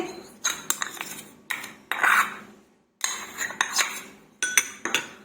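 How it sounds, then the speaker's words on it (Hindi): A spoon clinks and scrapes against a small bowl as yogurt is spooned in to make chutney in a home kitchen. Several short bursts of metal-on-dish clatter come close up, separated by brief pauses, with no talk. "तो अब हम कटोरी में दही डाल देंगे"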